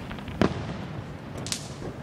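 Distant Independence Day fireworks pop against a low outdoor rumble, one distinct sharp bang early on followed by a fainter crackle a second later.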